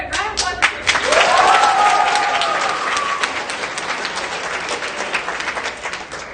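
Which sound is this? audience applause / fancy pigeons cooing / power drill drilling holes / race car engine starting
audience applause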